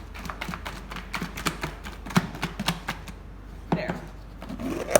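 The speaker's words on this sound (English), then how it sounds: "So I'm just going to take the box, close it, and shake it well." A closed box holding chicken pieces and spices is shaken in a kitchen, giving rapid, uneven rattling and thumping taps of moderate loudness, with a voice talking briefly.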